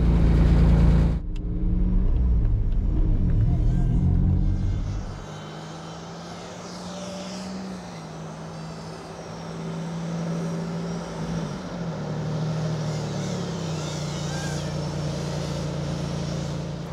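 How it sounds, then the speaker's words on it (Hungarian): A Toyota MR2 V6 engine drones steadily during a lap, heard from inside as a sustained hum whose pitch rises and shifts with gear changes after a loud opening rumble. "ez jól szól a motor"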